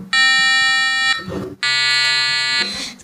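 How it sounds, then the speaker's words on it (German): Electronic alarm beep from the small speaker of a battery-powered pacifier-finder device, two loud sustained buzzing tones of about a second each separated by a short gap, heard up close with no talking. "der Lautsprecher, das hört man jetzt gleich."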